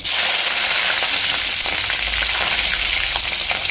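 Tempering seeds sizzling in hot oil in a pan while cooking tamarind-leaf dal, a loud, steady, close-up crackling hiss with no talk.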